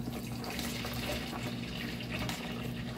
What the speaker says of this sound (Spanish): Le agregamos el otro litro de agua.